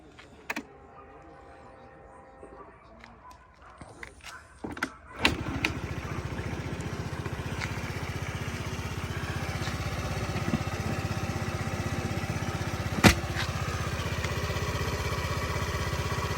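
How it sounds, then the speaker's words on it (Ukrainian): A Honda Today AF-67 four-stroke injected scooter starts after a few clicks and handling noises, then idles quietly and evenly nearby, with one sharp click partway through. "Чудово, двигун працює тихенько,"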